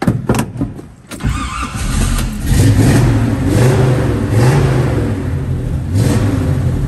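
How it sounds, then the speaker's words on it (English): A 1967 Chevrolet El Camino engine cranks briefly, then catches and settles into a steady, loud, rumbling idle with no talk over it. "Let's start this thing up."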